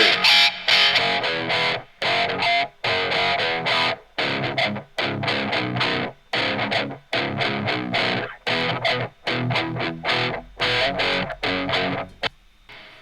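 Heavily distorted high-gain electric guitar recorded with a Royer ribbon mic plays chugging, palm-muted riffs with sharp stops and gaps, loud and close, no voices.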